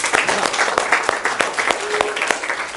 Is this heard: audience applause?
yes